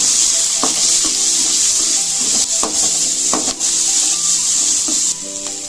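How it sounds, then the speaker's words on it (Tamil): Chopped onions sautéing with cinnamon and cloves for a soya chunk gravy, a loud, close, continuous hiss of frying broken by regular scraping strokes of a spoon against the pan, no voices. "வெங்காயத்தை லைட்டா வதக்கிக்கலாம்."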